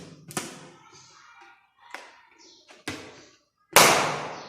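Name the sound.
balloon being burst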